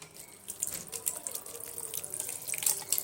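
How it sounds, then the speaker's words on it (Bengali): Water is poured into a cooking pot of fried ingredients for chole, a close, splashy running gush that swells and churns for a few seconds with no voices. "এবার আমি এখানে পরিমাণ মতন পানি অ্যাড করছি"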